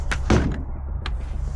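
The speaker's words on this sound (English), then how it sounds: "It's meant to be a slam door." A hand-built slam-type door on a model railway signalling project bangs shut once, a single sharp thud followed by a faint second knock, close by with no talk.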